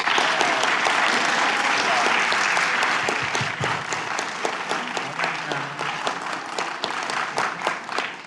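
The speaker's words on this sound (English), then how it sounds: "let's give him one more round of applause to celebrate what he does" Applause from an audience at a school recognition meeting, a dense, steady wash of many hands clapping that runs throughout, with sharper individual claps standing out and a faint voice underneath.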